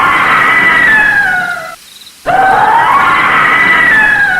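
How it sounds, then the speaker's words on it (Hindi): Loud, sustained high-pitched screaming from a smartphone that cuts off abruptly for about half a second, then resumes at full intensity, rising and wavering. "चीखें सुनाई देने लगी उस स्मार्टफोन के अंदर से"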